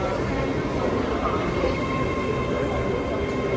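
A Class 801 train, unit 801205, departs Doncaster station with a steady, loud rumbling roar of wheels and traction under a broad hum, continuous and close, while a voice is faintly heard.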